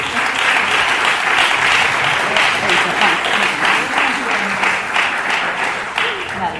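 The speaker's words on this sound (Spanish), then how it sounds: "un fuerte aplauso para las tres" Audience applauding three speakers at a labour-policy session of a social economy network conference, dense steady clapping that fills the room for the whole stretch without fading.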